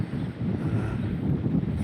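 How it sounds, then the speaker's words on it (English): Wind blows across the sailboat WAKAWAKA while it cruises the Waewaetorea Passage. Steady low buffeting and rushing air sound close to the microphone, with no voices over it. "Still windy."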